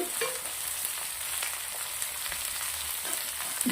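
Ivy gourd for a masala pulao fries in oil with a soft, even sizzle throughout and a few light stirring scrapes, no one speaking.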